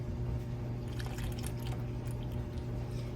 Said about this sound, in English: we're going to gradually pour it in there